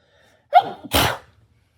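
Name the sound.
sneeze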